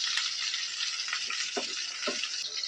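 Half-fried chicken kababs crackle in hot oil in a pan with a steady, dense sizzle and a few brief pops and stirring sounds throughout. No one speaks.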